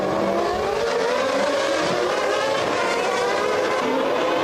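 Formula 1 race cars lapping Monaco in 1994, a McLaren among them, scream past in a continuous loud, high-pitched engine wail that holds steady throughout with no voices.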